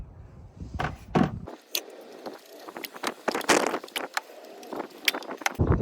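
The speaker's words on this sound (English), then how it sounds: "I'm gonna remove the ignition coil. So you're just gonna wiggle it left to right and then pull it up" On a 2015 Kia Sorento 2.4L engine, an ignition coil is wiggled and pulled free, giving a run of close plastic clicks, rubbery scrapes and small knocks in irregular bursts, with no talk.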